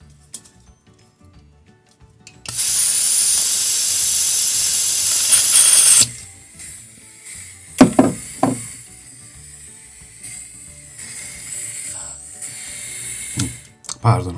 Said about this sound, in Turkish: Pardon, açık bıraktığımız için gaz boşaltıyormuş bu taraftan.